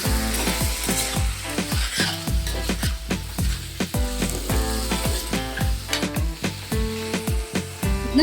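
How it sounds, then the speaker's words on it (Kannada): Chicken pieces fry in a pan while a spoon stirs them, producing loud, rapid, rhythmic clattering scrapes over a constant sizzle. "ಓಕೆ, ಇದನ್ನು ಫ್ರೈ ಮಾಡ್ಕೊಳ್ಳೋಣ."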